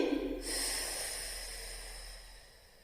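A forceful exhale during a Pilates breathing exercise, heard as a short intake followed by a long, close, airy breath out that slowly fades over a few seconds, with no talking.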